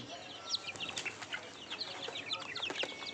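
Free-range desi country chickens clucking at a poultry farm, several birds making repeated short clucks and calls, close and moderately loud, with light wing flutters and no talking.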